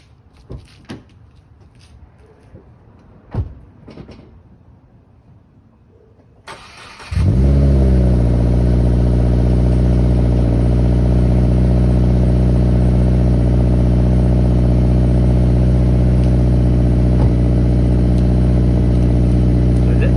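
After a few quiet clicks and knocks, a Subaru Crosstrek with a Nameless Helmholtz exhaust cranks and fires on a cold start, then settles into a loud, steady high idle near 2,000 RPM that holds without talk.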